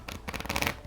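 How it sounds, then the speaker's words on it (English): Tarot cards riffle in a quick, soft shuffle close by, a brief papery flutter under a second long with no speech. "One more shuffle."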